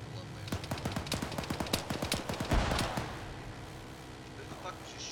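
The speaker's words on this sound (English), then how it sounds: "Who the fuck was just shooting?" Rapid bursts of gunfire during a military field training exercise, a dense rattling string of sharp shots over the first three seconds, fairly close and loud, then fading to quieter distant pops.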